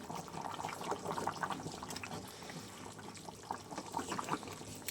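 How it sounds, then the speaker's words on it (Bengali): Egg curry bubbling in a pot, a close, continuous wet gurgle and soft popping with faint swells. "চলো আর একটু ফুটে নিই"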